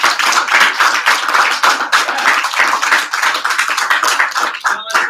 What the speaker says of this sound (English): Let's test your applause right now.